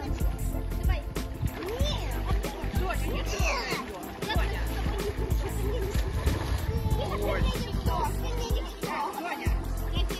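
Children splash in the sea at a small pebble beach in Yalta, with steady close splashing and churning water mixed with their chatter and voices throughout.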